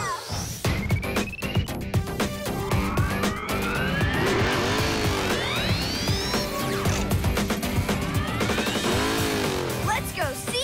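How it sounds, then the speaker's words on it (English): A cartoon motorcycle rides along with rising, swooping engine whines and revs over busy background effects, while voices talk now and then. "We can get there on our new motorcycle!"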